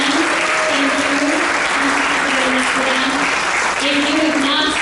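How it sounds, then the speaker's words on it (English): Seminar audience applauding throughout, a steady wash of clapping with voices and speech-like tones running underneath. "I would love to give them a round of applause for coming in."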